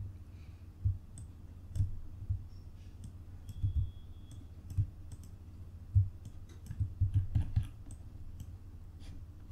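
Sharp mouse clicks while drawing walls and barriers in a drawing program, sounding singly and in quick clusters of two or three, close and dry against a quiet room hum.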